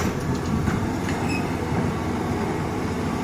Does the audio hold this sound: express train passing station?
yes